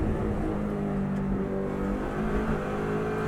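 A Subaru WRX STI on the Isle of Man TT course roars along at speed, a steady, loud engine drone with road and wind rush, no talking heard.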